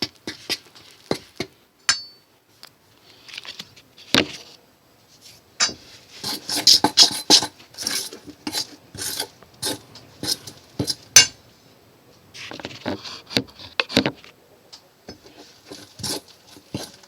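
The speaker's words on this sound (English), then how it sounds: "I start kind of working the flour into that scrambled egg" A fork clinks and scrapes against a bowl as beaten egg is worked into flour for homemade noodle dough, in irregular bursts of tapping and scraping that are close up, with no talking.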